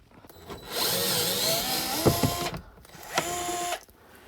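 A bolt on the cabin air filter box of a 2004–2008 Acura TL is unscrewed with a whirring power driver in two short bursts, close and fairly loud, separated by a brief pause.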